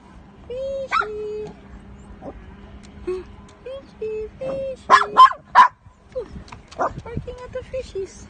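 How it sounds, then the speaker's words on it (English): A small dog barks at fish in a park pond, giving a series of short yips, whimpers and sharp barks, fairly close, with people talking around it. "Barking at the fishies."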